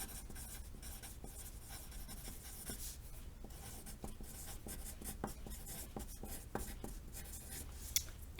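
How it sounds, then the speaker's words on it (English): Faint hand writing of a decimal number during a math lecture, soft continuous scratching strokes under a steady background hiss, no talking. "So I'm going to write that."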